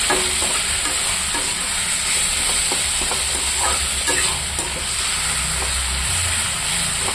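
Tomatoes fry in a pan without added water, a steady constant hiss broken by scattered clinks and scrapes of a spoon stirring; no voices.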